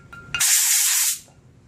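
WD-40 lubricant sprayed from an aerosol can onto a clean hydraulic spool for a shifting valve, one steady loud hiss lasting under a second, with faint clicks before it and quiet room sound after.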